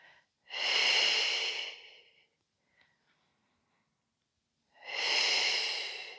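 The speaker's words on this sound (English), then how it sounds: "Out breath as you pull in and push the lower spine down" Two long, deep breaths during a stretching exercise, each a loud, close airy rush lasting over a second, separated by a few seconds of near silence.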